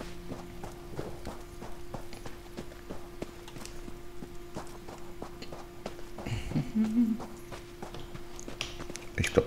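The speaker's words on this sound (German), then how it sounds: "Ich glaube, wir reiten." Horse hoofbeats from riding in the video game Elder Scrolls Online, a steady quiet clip-clop rhythm of repeated hoof strikes under a low ambient drone, with a brief soft voice-like murmur near the end.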